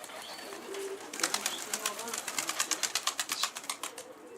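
Pigeons, with a rapid, rhythmic flutter of wing flaps building after the first second, over outdoor background noise and faint voices.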